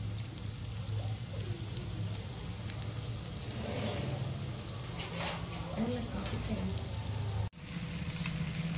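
Oil sizzling on a hot tawa around colocasia rolls (alu vadi), a continuous close crackling fry with a person talking over it.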